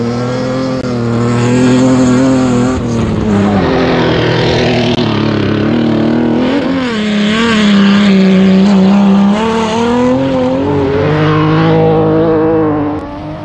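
Rally cars race hard along a stage of the East African Mini Classic Rally, their engines roaring and revving loudly and continuously, the pitch rising and falling as they drive.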